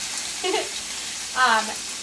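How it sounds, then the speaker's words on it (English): A steady hiss of ground turkey sizzling in a hot pan runs throughout, with a couple of brief spoken words over it. "Oh yeah, good sizzle."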